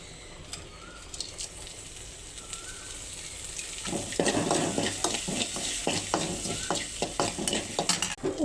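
Ingredients sautéed and stirred in a pan with turmeric and a little salt, a Tamil potato fry: a quiet steady sizzle at first, then louder scraping stirring strokes in a broken rhythm over the sizzle.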